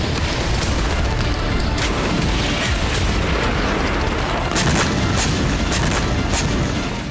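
Israeli air bombardment striking sites in Gaza. It comes through as a dense, continuous roar of rumbling blasts with sharper bursts breaking through, loud and unbroken for several seconds, and no one speaks.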